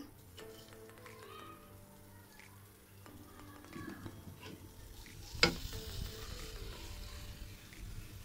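Boiled green papaya stir-fried with sugar in a pan gives a faint sizzle under scraping stirs, with a sharp clatter of the spatula near the middle.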